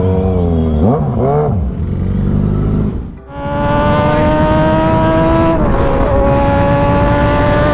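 A Suzuki Hayabusa motorbike engine roars loud and close, revving high and dipping briefly at a gear change before climbing again at speed.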